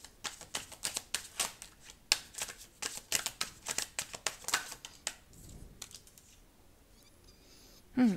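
Tarot cards are shuffled by hand in a rapid series of crisp riffling flicks and snaps, close and clear, fading into quieter handling.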